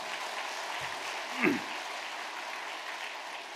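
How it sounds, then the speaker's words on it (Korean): Congregation applauding to welcome a newly registered member at a Christmas Sunday church service: steady, even clapping from the room with a brief louder bump midway. "박수로 환영하겠습니다"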